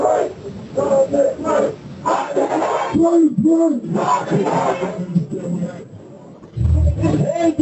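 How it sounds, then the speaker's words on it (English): A crowd gathering into a protest after news of a shooting, loud overlapping shouting and chanting voices close by with rising collective roars and babble throughout. "the gathering crowd begins to take the shape of a full-fledged protest"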